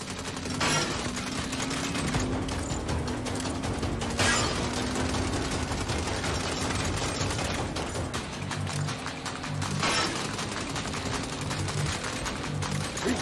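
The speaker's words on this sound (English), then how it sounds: "Shoot him! Shoot him!" Gunfire in the Saints Row video game during a desert convoy attack, with bursts of shots rolling on under loud engine and driving noise, a few sharper cracks standing out.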